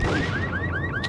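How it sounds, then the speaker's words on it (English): Car alarm blaring in the Max Payne video game, a loud, steady run of rising electronic whoops repeating in quick succession with no voices over it. "Setting off the alarms. I would hate to be the owners of these cars."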